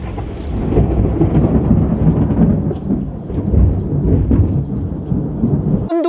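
Heavy rain pours steadily during a heavy-rain warning on Jeju, on a house about 200 metres above sea level, with deep rolling thunder rumbling throughout. The loud, dense storm noise cuts off abruptly just before a brief tonal chirp at the end.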